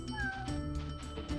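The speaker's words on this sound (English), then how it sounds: "Oh, he's meowing." A video game character in Spyro Riptos Rage gives a few short, tonal meows over light background game music.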